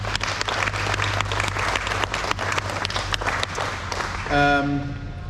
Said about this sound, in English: So a round of applause for everybody involved.